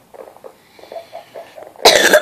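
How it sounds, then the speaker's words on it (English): A short, harsh cough bursts out loudly near the end, following a stretch of faint, scattered low sounds. "excuse that if I will be cleaning my throat or coughing"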